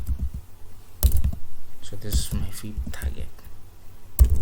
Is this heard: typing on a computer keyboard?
yes